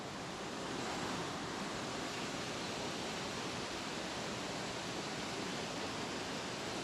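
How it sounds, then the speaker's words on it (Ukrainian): Steady, dense rush of flowing water, loud and continuous throughout with no pauses, like a close spillway or torrent. "Тече вода."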